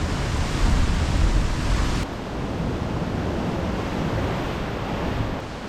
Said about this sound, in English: Just a rough ocean out there.